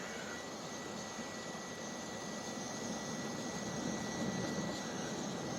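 An MSR WhisperLite white gas camping stove burning at full ignition gives off a steady, faint roar that swells slightly toward the end, with no talk.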